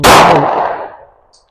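A Smith & Wesson M&P Shield .40 pistol fires a single sharp, loud shot that rings out and fades over about a second, with the crack of another shot starting right at the end.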